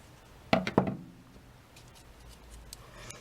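Two quick, crisp snips of non-stick Fiskars scissors cutting paper close up, followed by quiet room tone with faint handling noises.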